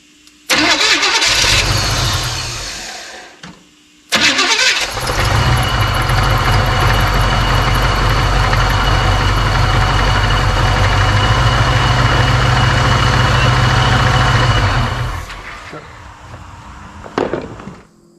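A Chevy small-block 350 cranks and catches briefly, dies, then fires again with a loud burst and runs at a rough, steady idle for about ten seconds before cutting out; low voices are heard near the end.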